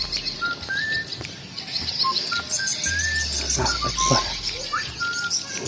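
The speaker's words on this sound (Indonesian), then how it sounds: "Ini yang saya bilang tadi, burung waletnya guys ya." Swiftlets chirp and twitter in a residential neighborhood, a busy chorus of high, short calls and whistles over constant insect-like hiss, with a low rumble briefly underneath.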